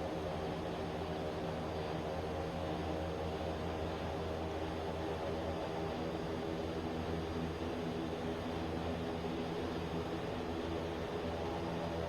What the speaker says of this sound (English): Really awesome sound pack in this plane.